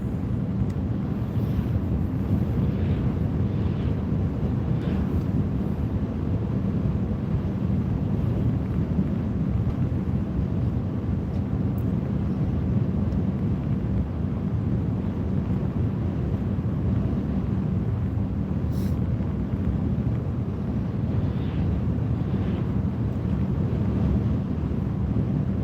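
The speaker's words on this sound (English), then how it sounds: "It is windy as crap here in the flatlands." Strong wind roars steadily across open flatlands, a dense, continuous low rumble buffeting the microphone throughout with no voices.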